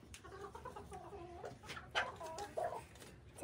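Several mini meat-breed chickens, a rooster and hens, cluck and murmur softly nearby in short, uneven bursts, with a louder squawk or two standing out.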